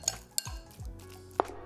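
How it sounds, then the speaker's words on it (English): Chopsticks stir sesame oil, cilantro and green onion into a paste for fried stuffed tofu, giving a few sharp, light clinks against a bowl among soft scraping in a quiet kitchen. "Now we'll stir in the sesame oil and aromatics into the paste with our chopsticks."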